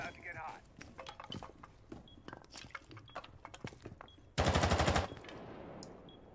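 Automatic gunfire from a competitive Rainbow Six Siege pro league match on the Clubhouse map, scattered shots under continuous commentary, then a loud dense burst of rapid fire lasting about half a second near the end.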